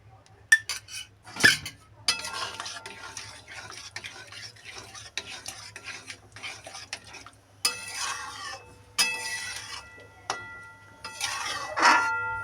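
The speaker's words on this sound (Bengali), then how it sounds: "ভালো করে মেশাতে হবে, না মেশালে কিন্তু দইটা ফেটে যাবে।" A yogurt mixture is stirred in a pot with a spoon: a close, steady scraping and clinking of metal against the pot, with a few louder knocks.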